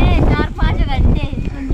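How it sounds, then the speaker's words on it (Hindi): Strong wind buffets the microphone outdoors in Mathura, a constant low roar running under someone talking, loud and close. "अब तो मौसम सही हो गया देखो हवा चल रही है"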